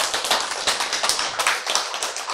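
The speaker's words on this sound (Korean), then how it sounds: "이것을 아는데 여러분 왜 박수를 쳐요?" Audience at a Korean lecture on genes and health claps in quick, rhythmic bursts, a fairly close, crisp patter of hands repeating steadily with no talk over it.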